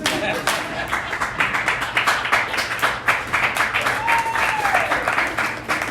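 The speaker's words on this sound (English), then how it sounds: "Clap your hands." An audience at a comedy competition claps in unison, a steady run of rhythmic hand claps filling the room, with a voice briefly over it.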